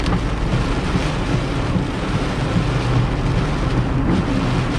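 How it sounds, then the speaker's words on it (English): Thunderstorm with heavy rain in Negril, Jamaica, a dense constant roar of rainfall with low rumbling thunder underneath, loud and steady throughout. "The storm is really here, or it's close by."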